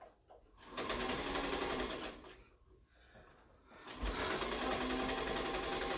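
A sewing machine stitches fabric in steady loud runs, pausing briefly twice between bursts, with a close mechanical hum and rapid needle rattle throughout.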